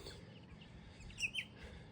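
Birds tweeting in Australian wallum bushland, with two short, bright chirps standing out near the middle over a faint, steady outdoor background.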